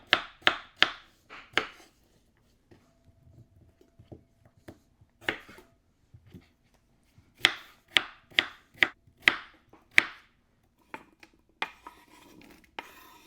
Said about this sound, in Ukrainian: Картоплю нарізаємо невеличкими шматочками, ось такими дрібними.